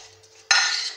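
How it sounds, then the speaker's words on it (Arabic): Chopped onions and other ingredients for an oven-baked sea bass stirred together in a bowl, a faint soft start then a sudden scraping, rustling burst of a spoon mixing close up. "هاي نخلطو كامل هاد لي زانغيديون"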